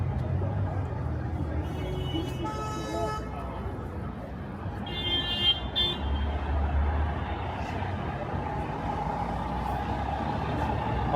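Vehicle horns toot in downtown Toronto evening traffic, a couple of short honks standing out over the constant street rumble of trucks and cars, with someone talking in the clip.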